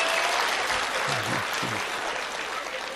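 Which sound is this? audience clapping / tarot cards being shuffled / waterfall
audience clapping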